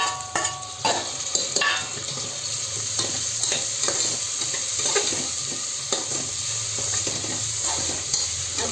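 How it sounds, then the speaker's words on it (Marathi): Tomatoes go into a pan of masale bhat and sizzle steadily, close up, with repeated scraping and stirring strokes and a few sharp clatters of the spoon against the pan. "आता मी त्यात घालत आहे टोमॅटो"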